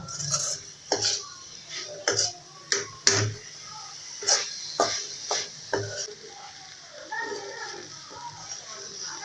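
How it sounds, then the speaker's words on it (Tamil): Fried plantain pieces being stirred into masala in a pan, a utensil striking the pan in irregular sharp clinks and scrapes over a faint sizzle. "இப்போ நம்ம ஃப்ரை பண்ணி வச்சுருக்கிற வாழைக்காயை உள்ளே போட்டு மிக்ஸ் பண்ணலாம்."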